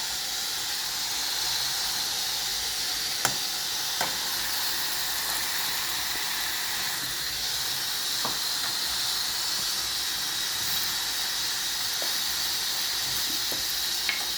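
Green tomatoes cooking in a pan with onion and garlic give a steady, loud sizzling hiss throughout, with occasional faint clicks and pops and no voices.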